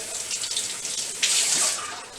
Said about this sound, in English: if you take your cheesecloth and just run it under some cold water and dampen it